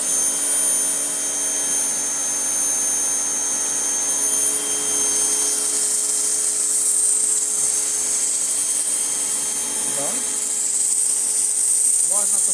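A Mächtz MPW-1858 X TURBO pressure washer runs with its motor whining steadily while the jet sprays, a loud, continuous high-pitched drone with a faint hiss of water, heard close throughout.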